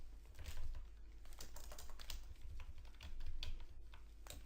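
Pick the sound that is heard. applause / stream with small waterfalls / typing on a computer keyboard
typing on a computer keyboard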